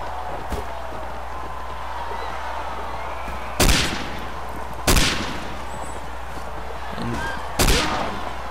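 Gunfire in the Mount and Blade game Civil War in Russia: three or four sharp, loud single rifle shots spaced a second or more apart over steady background noise, with no talking.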